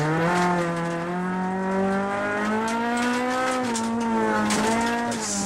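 Rally car engine revving hard and held at high revs on a gravel stage of the Tour Natal rally, a loud, continuous strained drone with slowly rising and falling pitch, close and alone with no talk.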